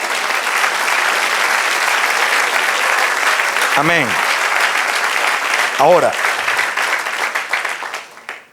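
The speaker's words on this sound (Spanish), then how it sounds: "Dale un aplauso al Señor" Church congregation breaking into sustained, loud clapping during a Spanish-language sermon, with a preacher's voice speaking over the applause before it fades out.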